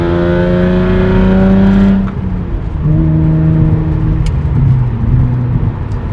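Hyundai Genesis Coupe 3.8 R-Spec with a straight-pipe exhaust: a loud, droning engine note holds, drops sharply at a gear change, then rises and wavers again, heard continuously from close range.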